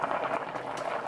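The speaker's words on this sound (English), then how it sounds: "I want it to come back to a full boil" Scallop and shrimp chowder bubbles at a full boil in a pot, a brief, steady close burble of liquid with no talking.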